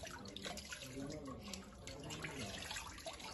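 Cold water running steadily from a fountain at a Greek monastery, a continuous close splashing rush that stays even throughout.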